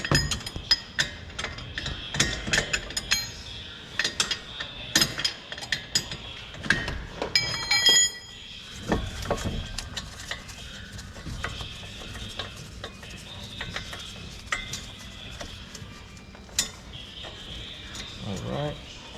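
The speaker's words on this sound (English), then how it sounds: "Use the wrench some more." A wrench ratchets while brake rotor bolts come off a Nissan 370Z, making rapid metallic clicking and clinking in bursts with scrapes and taps, close by, as a person talks at times.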